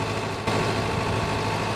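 An old light tractor idles on a vegetable farm, giving a constant low, rumbling engine drone with a brief dip early on before it settles back into an even, close-up idle.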